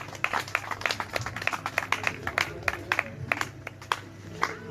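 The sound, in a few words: congregation applauding to acclaim the Lord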